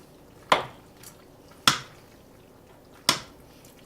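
A spoon clanks sharply against a pot three times, evenly spaced, while cooked pasta is mixed into mac and cheese. The knocks are near and crisp, with quiet gaps between them.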